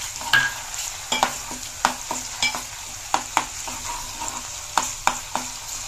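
Ginger paste and green chilies fry in hot oil for mutton curry, a close steady sizzle broken by repeated sharp scraping stirs of a spoon against the pan at a fairly regular pace, with no talking.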